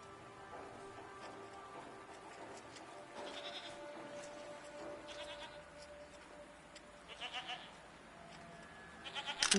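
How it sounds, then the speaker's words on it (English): Goat-like creatures bleat in the video game Season, several short cries rising against a soft, rain-like background and getting louder and closer toward the end, with no talking. "What are these strange goat-like creatures? Are they simply goats?"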